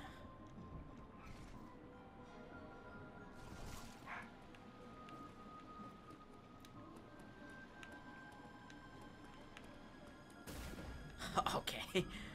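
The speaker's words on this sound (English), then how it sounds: "Ay, cállate, doggy." A dog in the room barks and yips in a few scattered bursts, faint at first and then louder and clustered toward the end, under speech and game sounds.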